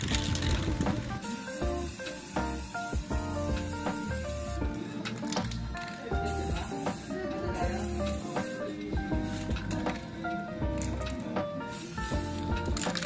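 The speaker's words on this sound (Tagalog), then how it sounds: "pwede ko na siyang pinturahan ng high temp spray" High-temperature spray paint applied in repeated hissing bursts to the exhaust of a Yamaha Aerox 155 V2 scooter, close and loud, with short pauses between passes over background music.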